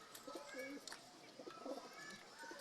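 Racing pigeons cooing softly in a loft, several short throaty coos and murmurs overlapping at a distance, faint overall.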